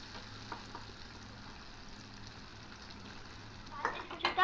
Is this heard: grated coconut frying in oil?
yes